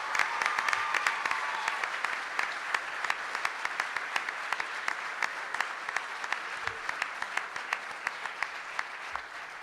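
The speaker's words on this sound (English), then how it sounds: "Give them a round of applause." A room claps at a 2010 WAC conference press conference. Sustained, moderately distant applause with many sharp individual claps runs steadily throughout.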